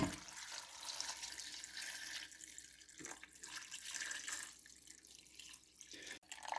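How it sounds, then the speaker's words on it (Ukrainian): Two litres of chicken broth pour into a soup pot for Polish-style cabbage soup, a steady close liquid splash and trickle running continuously with small dips in flow, no voices. "Додаємо курячий бульйон у нас 2 літри."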